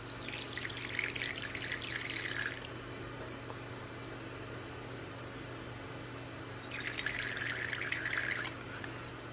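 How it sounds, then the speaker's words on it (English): Fresh water trickles and splashes as it is poured for a pet tarantula, in two short bursts of light pouring separated by a quiet pause, close and moderately soft over a low room hum. "Got some fresh water for you here"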